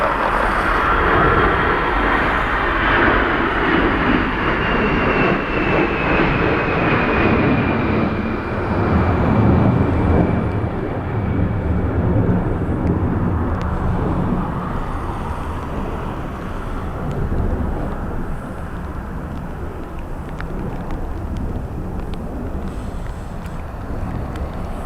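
An airplane landing in a crosswind on runway 16 at Dublin Airport, a loud sustained engine roar with a slowly falling whine that fades gradually as it passes, buffeted by wind noise, with no voices.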